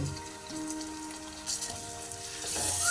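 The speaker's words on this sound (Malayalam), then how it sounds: "വെളുത്തുള്ളിയുടെയും ഇഞ്ചിന് പേസ്റ്റ് ഇട്ടതിന് ശേഷം വീണ്ടും നമ്മൾ നന്നാക്കി ഇളക്കി കൊടുക്കണം" Garlic and ginger paste sautéing for chicken kabsa biryani gives a steady, low sizzle and light crackle, fairly faint and close, rising slightly near the end with no talk.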